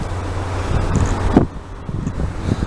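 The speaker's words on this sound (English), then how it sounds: "It's a bit windy today because obviously I'm standing right on top of a cliff" Wind gusting across a clifftop at Rosherville Gardens in Northfleet, buffeting the microphone with a rough, rumbling roar that swells and briefly drops before picking up again, with no talking.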